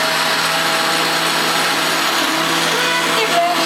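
A blender whirs steadily while puréeing carrot and coriander soup, a continuous loud motor drone with no pauses and no talk.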